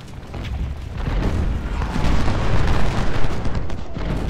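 Cannon artillery thunders in the Ultimate General: Civil War video game during the Battle of Shiloh, a dense, continuous rumble of overlapping booms that swells louder midway and stays heavy, with no voices over it.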